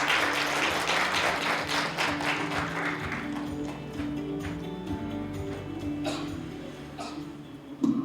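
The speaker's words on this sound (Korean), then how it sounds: "그럼 박수로 환영하겠습니다." Audience applause at a Korean economics forum session welcoming a speaker, scattered clapping in a hall that thins and tapers over several seconds, with a faint room tone beneath.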